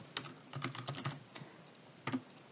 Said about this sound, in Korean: 엔터 눌러서 아래로 가고 탭 눌러서 오른쪽으로 가는 건데